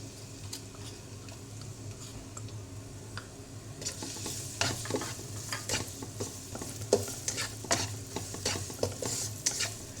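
Chopped fresh garlic fries in oil with a steady soft sizzle, punctuated by sharp clicks and scrapes of stirring that grow busier toward the end; no voices.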